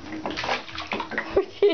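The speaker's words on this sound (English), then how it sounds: "Don't splash" A small child splashes water in a bathtub with a rubber duck, close-up sloshing and slapping at the water surface alongside faint talk.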